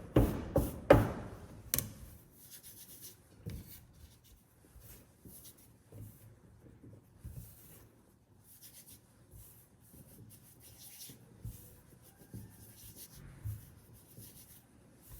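A pastry scraper cuts butter into flour for fig tart dough, giving soft, repeated scraping and tapping strokes against the work surface. Louder knocks come at the start, then quieter rhythmic rubbing continues throughout.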